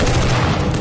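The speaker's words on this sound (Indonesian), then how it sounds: "Selama baku tembak terjadi" Gunfire exchanged in a film action scene forms a dense, loud, continuous roar of overlapping shots and booms with no pauses across the brief moment.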